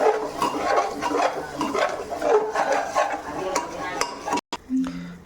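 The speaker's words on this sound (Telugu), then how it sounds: "మళ్ళీ బాగా కొంచెం ఒకసారి కలబెట్టుకుందాం." Mutton biryani mixture with mint and coriander being stirred in a pot: a steady, close run of wet scraping and shuffling with scattered clinks, then a brief drop to near silence and a few final knocks.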